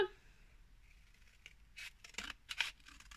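Scissors snip through paper in a few crisp, separate cuts close to the mic, with short pauses between the snips in a quiet room.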